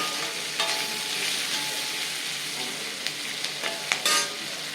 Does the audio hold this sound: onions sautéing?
yes